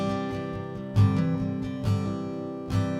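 Acoustic guitar processed with EQ and reverb, strummed chords ringing out with a few accented hits, moderately quiet and alone.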